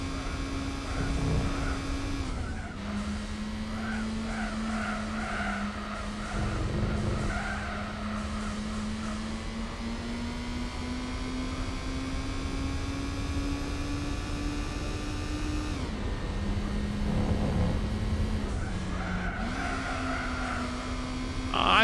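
A race car in the Gran Turismo 4 video game drones with a steady engine note that shifts pitch with gear changes, while tires skid and squeal almost continuously across the whole stretch, loud and with no talk over it.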